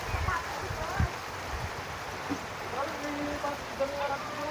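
Rain falls at El Capitan Resort as a steady, broad hiss with a few low thumps, while people talk faintly in the background.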